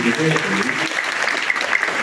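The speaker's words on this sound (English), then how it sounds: "Can we have another round of applause for these children?" A crowd claps steadily and warmly for children at an outdoor church peace walk, a dense patter of applause with a voice briefly audible near the start.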